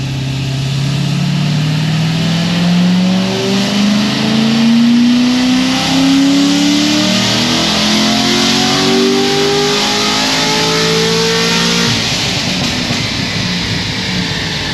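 A low-mileage sports car on a cold full-throttle acceleration pull, the engine revving loud and close in a long rising drone that climbs steadily through the gears for about twelve seconds before easing off.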